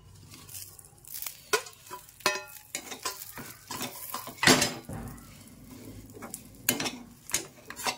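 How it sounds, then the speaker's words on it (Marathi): Fried green chillies stirred with roasted peanut powder in a pan, a spoon scraping and clinking against the metal in irregular strokes over a soft sizzle. "चांगल्या प्रकारे हलवून घेऊ।"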